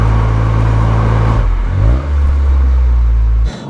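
A Toyota GR Yaris fitted with an HKS Super Turbo Muffler cruises around town at light throttle, its exhaust droning low and steady, with one gear change and a brief dip in engine note near the end.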